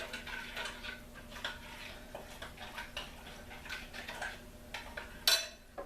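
A spoon stirs a bread pudding mixture with salt in a bowl, giving soft, faint, irregular scraping and tapping sounds at close range with a brief sharper clink near the end.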